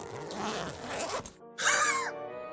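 A backpack zipper in the horror video game Tiny Bunny pulls open in one quick, bright rasp after a short pause, preceded by a stretch of busy rustling and shuffling.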